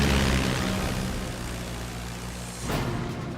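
WWII Japanese Zero and American Hellcat fighter planes drone loudly in a dogfight, propeller engines roaring and then fading slightly before another swelling rush.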